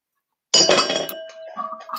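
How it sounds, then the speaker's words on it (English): Ice cubes drop into a large cocktail glass in a home drink-making setting, a sudden bright cluster of clinks and rattles after a moment of silence, then settling knocks and a faint later tap, close and alone. "You can add some ice cubes."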